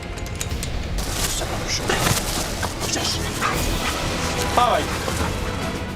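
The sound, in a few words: police dog barking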